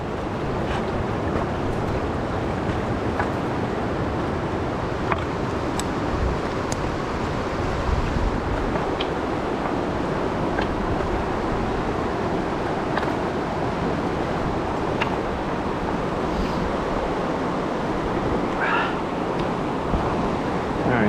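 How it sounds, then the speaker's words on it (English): River rapids at Ohiopyle rush in a constant, broad roar of turbulent water, steady and unbroken throughout, with some wind buffeting the microphone. "So there's another rapids"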